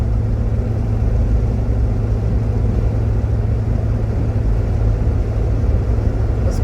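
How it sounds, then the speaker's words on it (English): A 1972 Chevrolet Chevelle on the move, its engine droning low and steady throughout, with road rumble filling the cabin and no talking. "Car drives real nice"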